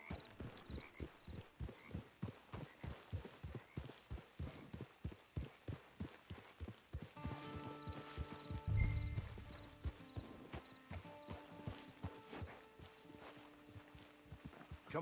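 Horse hooves in the Red Dead Online video game on PS4, walking with steady, regular clip-clops that are close and clear. A brief snort or whinny-like burst sounds midway, with no talk.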